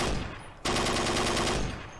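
Rapid automatic gunfire from the Forgotten Hope 2 World War II game, a loud, dense burst of evenly spaced shots that cuts in abruptly and runs steadily.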